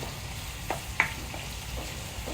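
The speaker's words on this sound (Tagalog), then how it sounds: "Isa na tayo ng bawang at sibuyas sa pinagprituhan." Garlic and onion sizzle in leftover frying oil while cooking chicken hamonado, a steady soft hiss with a couple of brief pops near the start, fairly quiet and with no talking.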